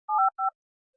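Two short bursts of telephone keypad tones, one longer then one brief, clean and alone, followed by silence.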